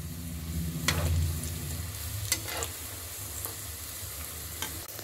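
Stuffed bitter gourd fries in a pan with a steady, moderate sizzle, broken by a few brief scraping stirs and clicks.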